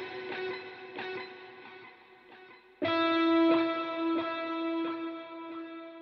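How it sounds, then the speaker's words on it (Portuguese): An electric guitar patch from the Shreddage 3 Stratus sample library runs through a PreSonus Analog Delay set to dotted eighths, with picked notes and a sustained chord trailing rhythmic echoes that repeat and fade. "adicionei esse aqui, o Analog Delay da Presonus"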